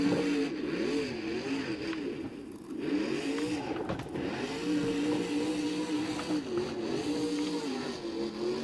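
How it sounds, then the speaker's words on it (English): Monster truck engine in BeamNG during a Monster Jam freestyle run in Gilbert, PA, revving hard with rising and falling pitch sweeps, loud and continuous throughout with a strained transmission whine. "That transmission already sounds like it's struggling"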